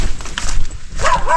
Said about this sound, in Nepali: अघि पनि कुकुर कराप्दै त